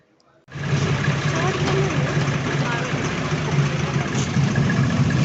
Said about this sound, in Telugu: ఇక్కడైతే ఇంకా మేము ట్రాక్టర్లో అయితే వెళ్తున్నాం అనమాట.